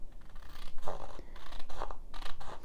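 Small scissors trim scrap paper in a conservatory, several quick, crisp cuts, close by, with a faint background hiss.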